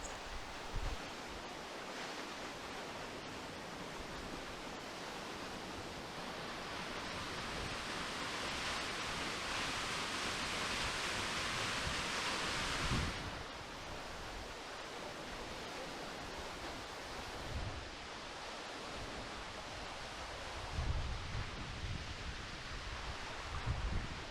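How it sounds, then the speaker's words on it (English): Double Falls, a 178-foot state park waterfall, sends out a continuous broad roar of falling water that swells somewhat in the middle, with occasional low wind buffets against the microphone. "So Double Falls is actually 178 feet tall, which makes it technically the tallest waterfall at the entire state park"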